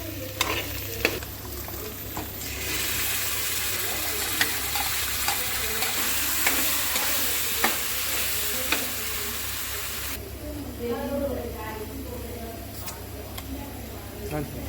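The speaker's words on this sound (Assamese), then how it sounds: "এইফালে এতিয়া পনীৰখিনি ফ্ৰাই হৈ আছে" Paneer fries in a pan with a steady, close sizzle, broken by frequent small clicks of a utensil stirring, and a voice speaks over it at times.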